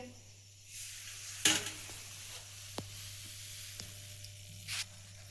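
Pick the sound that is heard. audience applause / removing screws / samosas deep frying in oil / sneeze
samosas deep frying in oil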